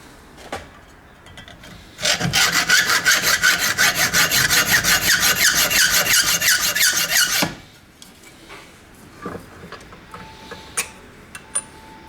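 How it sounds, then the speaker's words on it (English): A hacksaw works through parts from an 1865 Forster & Andrews pipe organ in a fast, even run of close rasping strokes lasting about five seconds, then stops, leaving scattered light knocks and taps. "So now I need to run a hacksaw through them."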